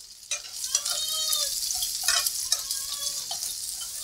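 Cumin seeds and curry leaves crackle and sizzle in hot oil while a spoon stirs and scrapes the pan, close and fairly quiet, with sharp bursts of spattering.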